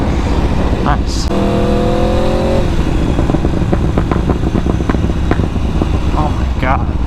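An Aprilia RSV4 sport motorcycle's exhaust revving on a scenic road near Phoenix: a loud, close engine note rising in a brief stepped rev, then a rough rumbling idle with crackles, under constant wind buffeting.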